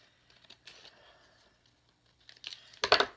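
A used coffee filter is trimmed, with quiet intermittent papery snips and rustles, then a louder, close crinkling burst near the end.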